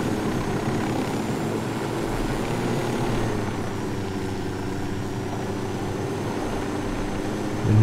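A helicopter flies steadily in the Ghost Recon Wildlands video game, giving a continuous droning rotor and engine hum at constant loudness with no talk, ending in a brief low thump.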